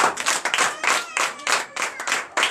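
At a Sunday church service in Benin, a congregation claps in acclamation with bursts of brisk, rhythmic clapping heard close up, joined by a few voices.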